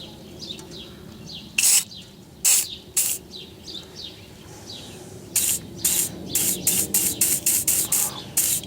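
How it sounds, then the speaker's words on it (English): WD-40 is sprayed onto a bolt near the ABS sensor on a BMW in a series of close, sharp hissing bursts: a few separate sprays, then a rapid run of short squirts, with birds chirping in the background. "I'm going to try and loosen that with a little bit of WD-40."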